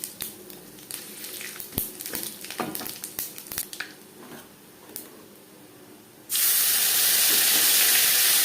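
A bay leaf and a spoon of five-spice hit hot oil in a wok already used for frying potato and young jackfruit, with scattered crackles and clinks, then a sudden loud, sustained sizzle bursts in and holds.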